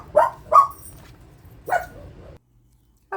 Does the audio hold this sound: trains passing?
no